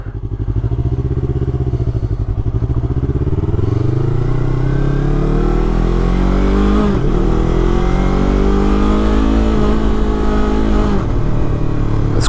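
A 2019 Yamaha R3 motorcycle rides on a city road near Imperial Beach, its engine droning loud and close with rising and falling revs through gear changes, continuous for the whole stretch.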